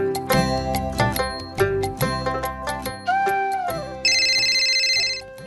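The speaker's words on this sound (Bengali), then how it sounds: "আমাদের ফোনটা আবার বাজতে আছে" A mobile phone rings with a bright, melodic ringtone. Repeated chiming notes sound close and clear, and a buzzy, tonal alert tone joins in near the end.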